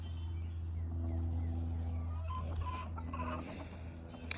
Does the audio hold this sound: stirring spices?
no